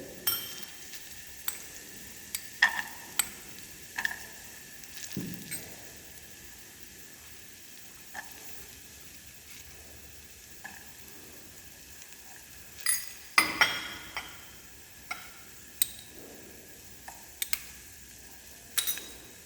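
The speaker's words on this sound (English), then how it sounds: "Saute it well." Chopped carrot, cabbage and celery are sautéed in a pan for pesto minestrone soup. A soft, low sizzle runs throughout, broken by scattered taps and scrapes of a spatula.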